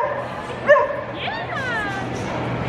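A dog at a pet expo gives a short yip and a few whiny barks, close by, over faint background noise.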